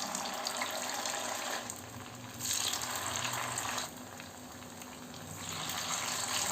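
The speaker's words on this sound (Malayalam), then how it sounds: "ഇതുപോലെ തന്നെ ബാക്കിയുള്ളത് നമുക്ക് ഫ്രൈ ചെയ്തെടുക്കാം." Potato snack frying in hot oil for a breakfast or evening treat, a steady broadband sizzle and bubbling that swells and eases in waves, close and continuous with no voices.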